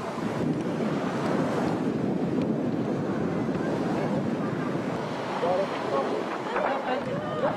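Steady wind and breaking surf at a windsurfing or kitesurfing beach competition, the Grand Prix ANG 2011, a broad continuous roar with wind buffeting the microphone throughout and faint voices underneath.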